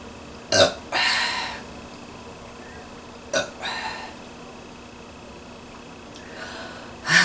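A pregnant woman in tight clothes burps several times: two close burps early, another pair midway, and a softer one near the end, each short and throaty, clear and close against a quiet room.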